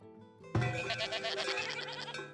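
Several goats bleat over one another in a continuous, wavering chorus, close and fairly loud, after a short lead-in of background tones, in the settlement-building video game Farthest Frontier.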